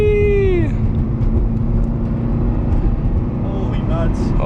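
A motor vehicle revs up hard after a downshift on a road, a loud continuous engine roar rising and falling in pitch through the whole stretch, close to the microphone.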